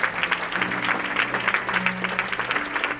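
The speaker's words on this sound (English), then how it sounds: "Come on, clap your hands" Church congregation clapping their hands during a sermon, a fairly steady, moderately loud patter of many hands with faint voices and organ-like tones underneath.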